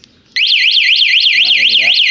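Siren-style alarm on a Yamaha F1ZR motorcycle blaring loud and close after a brief click, a steady warbling wail that rises and falls in quick regular cycles, with a voice speaking underneath partway through.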